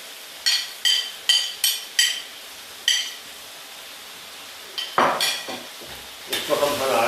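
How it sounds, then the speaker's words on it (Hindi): Tomatoes and chopped chillies tipped into chicken liver frying in a pan, a series of sharp spoon scrapes and stirs over a faint sizzle, then a louder clattering stir near the end. "अब इसमें हम टमाटर डाल देंगे और जो चॉप की मिर्चें हैं वो डाल देंगे"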